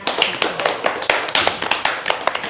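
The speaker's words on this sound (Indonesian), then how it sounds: "Tepuk tangan dulu buat semuanya" Hands clap for everyone in a small group, a scattered run of sharp claps with one or two louder ones standing out, close by and lively, with no talking over them.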